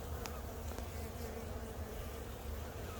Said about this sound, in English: Shake some of the bees off of it.